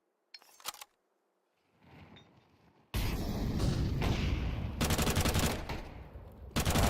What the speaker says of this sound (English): A lot of bullets flying around.